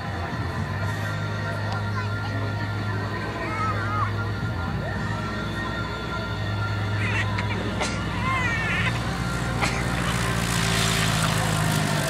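A light propeller airplane drones steadily on approach for a short-field landing at a competition, its engine noise continuous and moderately distant beneath crowd babble and chatter throughout.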